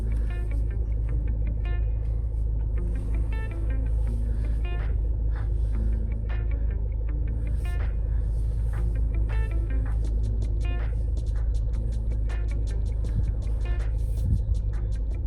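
Range Rover Evoque L538 engine idling steadily after starting, a continuous low rumble with faint intermittent clicks and ticks over it, close and even throughout.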